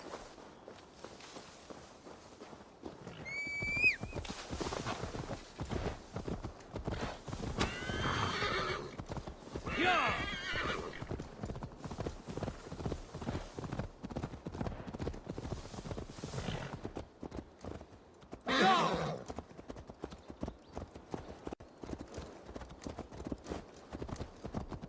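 Horse hooves clip-clopping at a walk in Assassin's Creed Valhalla, steady and close, broken by a short whinny early on and two louder neighs later, with snorts over a quiet game backdrop.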